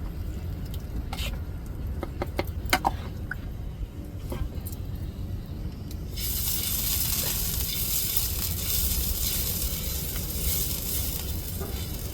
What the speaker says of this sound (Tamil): தோசைக்கல்லில் அப்படியே எண்ணெயை தடவிக்கிட்டு அப்படியே மாவை ஊற்றிடுவோங்க